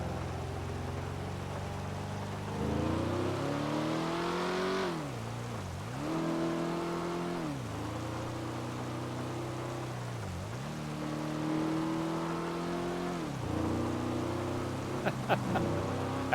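Engine of a fast car in the video game GTA FiveM, a droning whine that rises and falls through repeated gear shifts as the car accelerates and speeds past. Steady and moderately loud, with no voices.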